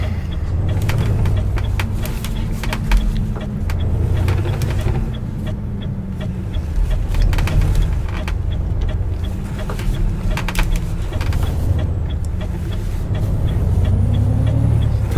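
Truck engine droning while driving in a trucking video game set in Ireland, a loud low rumble with shifting pitch as it revs, plus scattered clicks and thumps throughout.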